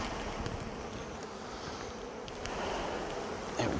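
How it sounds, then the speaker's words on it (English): Honey bees being shaken from a frame into a new colony during an early spring hive split with a Flow Hive give off a dense, continuous buzzing, close and steady, with rustling as they fall. "Shake some bees in, shake into the new colony."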